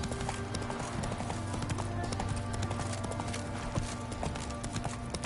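Horse hooves clip-clopping in the video game The Witcher 3, a steady rapid trot of hoofbeats close up and loud over a constant game ambience, with no talk.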